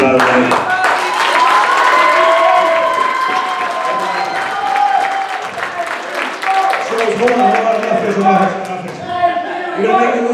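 A crowd at an IPW independent wrestling show in Des Moines cheers and chants a wrestler's name, with many voices mixed in loud, sustained cheering and clapping that swells and ebbs throughout.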